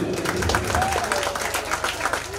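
An audience at a drama event claps in dense, sustained applause, fairly close, with a voice briefly audible over the clapping.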